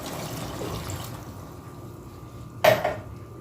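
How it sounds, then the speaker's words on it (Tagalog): A quiet kitchen hiss gives way to a sudden short splash and clatter as water is poured into a pot of pork feet paksiw cooking on the stove, trailing off after a second. "kaya lalagyan natin ng tubig."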